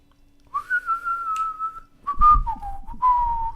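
A person whistles a melody along to music from the video game Swords and Sandals Medieval, clear and close, with one long sustained note followed by a few shorter phrases.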